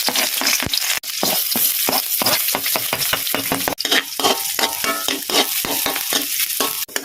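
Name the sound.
sautéing garlic and onion in rendered pork fat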